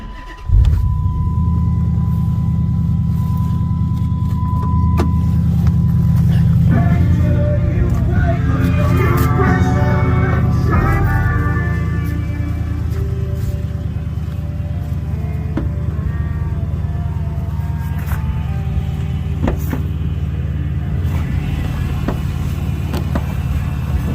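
A big Hemi muscle car engine with a 6-speed manual starts and settles into a deep, loud idle rumble, revving up once briefly before easing back to a steady burble, with people talking nearby.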